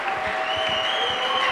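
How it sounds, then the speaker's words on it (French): Church congregation acclaiming the Lord with steady, dense clapping that fills the room, with faint crowd voices mixed in. "Est-ce que tu peux acclamer le Seigneur?"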